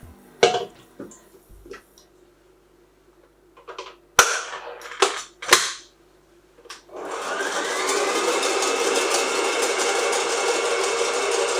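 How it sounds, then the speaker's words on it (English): Electric mixer whisking egg whites for chocolate mousse, starting after a few sharp clatters and knocks and then running as a steady, loud whirring drone for the last several seconds. "So I'm going to get the eggs on the whisk."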